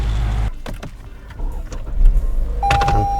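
A car is driven into a parking spot, its engine and rolling tires rumbling close by, with a short mechanical whir and a few clunks as it settles into place.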